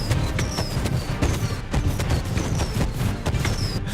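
Fireworks rockets in the Fortnite video game whistle upward in streaks and burst in repeated booms and crackles over a few seconds, a fairly busy barrage with no talking.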